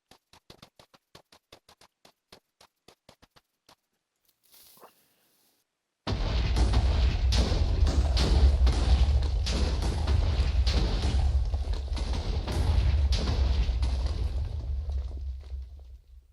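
TNT blowing out a trench in Minecraft: a string of faint ticks and clicks, a second of silence, then a sudden loud roaring blast that rumbles on for about ten seconds before fading, with no speech.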